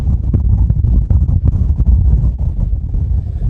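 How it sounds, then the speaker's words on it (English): Strong gusting wind buffets the microphone on a hill walk up Temple Hill near Anglesbrough, a loud, rough, continuous roar with uneven surges and no talk. "The wind is so strong"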